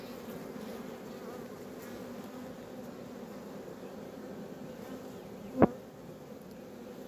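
Honeybees from a nucleus colony being transferred into a full hive, producing a steady low hum of buzzing close to the microphone, broken by a single brief sharp knock near the end.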